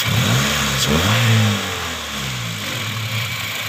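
A 2006 Honda Jazz engine revs up briefly and then settles back to a steady idle, heard close and loud without talk.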